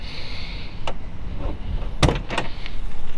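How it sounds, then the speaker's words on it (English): A 1937 Ford two-door slantback street rod's door unlatches with a sharp mechanical click and clunk, followed by a couple of lighter knocks over low, steady background rumble. "We'll reach in to open the door"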